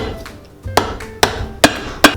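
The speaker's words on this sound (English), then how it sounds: "The Big Daddy hammer." A hammer strikes a Wolverine 1000 Mile boot during a resole, driving nails: four sharp, evenly spaced blows about half a second apart, close and loud, with no talk.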